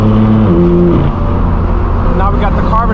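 Loud, close engine and exhaust roar from a straight-piped BMW M4 F82, a sustained raspy drone with shifting revs.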